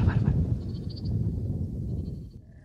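Lambs bleat on a livestock farm during lambing season. A few soft, fairly close calls come early over a steady low background murmur.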